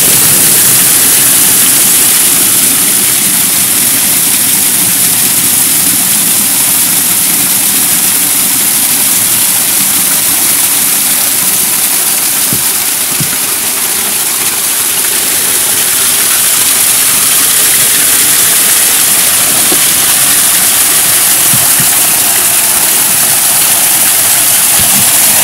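Water gushes steadily into a cattle trough in a pasture during a drought, a loud continuous roaring rush that stays even throughout with no pauses.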